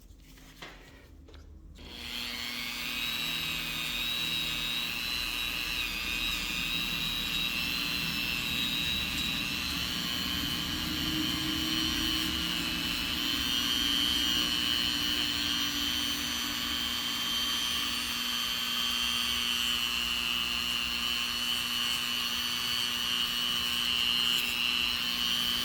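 A polishing wheel spins steadily against a Gen 3 Glock 33 pistol part, a continuous high whine with rubbing friction that holds for the whole stretch, fairly loud and close.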